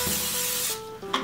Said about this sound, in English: I'm still gonna spray a little bit of pan.